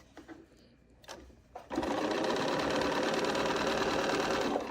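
A sewing machine running fast and steady, chain-sewing strips of quilt fabric together, close and loud after a few soft handling noises at the start.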